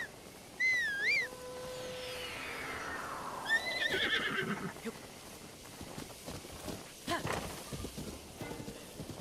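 A horse in a video game lets out one loud, wavering whinny. Softer snorts and shuffling movement follow at moderate distance, with no talking.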